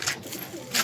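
Domestic pigeons in a loft coo softly nearby, two brief bursts framing a low murmur in a short moment without speech.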